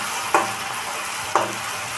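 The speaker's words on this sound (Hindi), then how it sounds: "देखिए टमाटर भी डाल दिए कढ़ाई में।" Tomatoes sizzle in a kadhai with a steady, moderate frying hiss, broken by two brief scraping stirs about a second apart.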